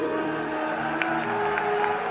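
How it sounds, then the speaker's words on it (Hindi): Crowd applause breaks out at a religious gathering of saints reacting to a call to boycott, a dense steady wash of clapping with low murmuring voices underneath, sustained and fairly loud throughout. "बजाओ ताली"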